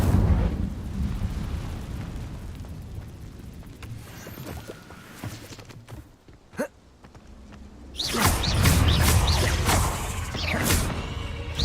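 A fire spell is cast in a fantasy video game with a low roaring whoosh, a sharp crackle near the middle, then a loud burst of flame and debris that swells near the end.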